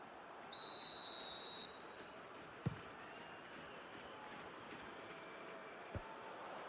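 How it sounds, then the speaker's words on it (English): A referee's whistle blows one steady, shrill blast of about a second during a football match, over a continuous crowd murmur, followed by a couple of sharp knocks. "And the whistle's gone, presumably for offside."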